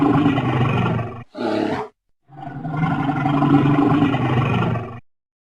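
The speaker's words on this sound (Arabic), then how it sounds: "دب،" A bear roars loudly and close up in a deep, rough call, breaks off briefly, gives a short second burst, then lets out a longer sustained roar before stopping.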